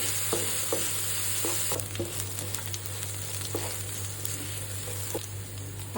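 Garlic and nigella seeds frying in oil for a moringa leaf dish, a steady bright sizzle with stirring scrapes and light clinks, fairly close and continuous with no talking.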